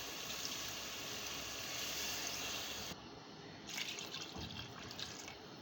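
Water is poured into a pot of rice and lentil pilaf, giving a soft continuous splashing and trickling that shifts partway through, faint and steady, with no talking.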